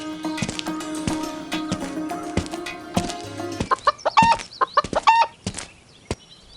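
Chickens cluck in a village poultry seller's yard in a cartoon story. Several short, pitched clucks burst out in a quick, uneven cluster over a busier background, fairly close and loud.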